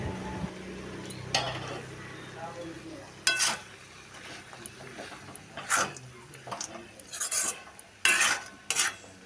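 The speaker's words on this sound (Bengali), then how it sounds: "ঢাকা সরিয়ে কিছুক্ষণ পর আবারও একটু নেড়ে চেড়ে নেব" A spoon stirs vegetables frying in a pan for a Bengali vegetarian paste, heard as intermittent metallic scrapes and clinks over a faint, steady sizzle, with no talk.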